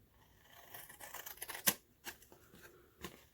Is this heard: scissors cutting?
yes